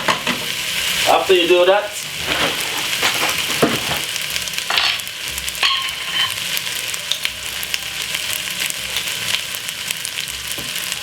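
Vegetables stir-frying with linguine and jerk seasoning in a pan for Jamaican jerk pasta, a steady close sizzle broken by scraping stirs and utensil clinks, with a brief spoken phrase early on.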